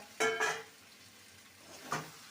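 Mutton pieces dropped into hot spiced oil for dhaniya mutton, two quick loud sizzles close together, then a quieter stretch and one more short sizzle near the end.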